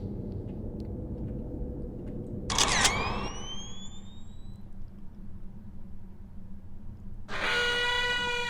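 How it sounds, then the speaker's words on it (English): In the video game Love, Sam, a camera shutter fires with a sharp burst, followed by a rising electronic whine that trails off. A second bright burst comes a few seconds later over a low background rumble. "Push the shutter."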